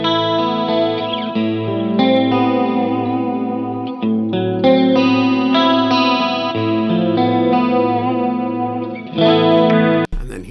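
Stratocaster electric guitar played clean through an Axe FX with chorus-like shimmer, sustained chords ringing one after another with a few changes, then abruptly cut off near the end.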